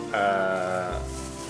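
A single sheep bleats loudly and close by on a farm where Hampshire Down and Swaledale sheep are kept, followed by a lower bleat at the end.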